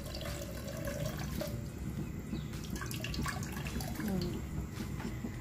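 Water pours in a steady, continuous stream into a cooking pot for chicken dum biryani, a full, splashy flow running close by without a break and with no voices.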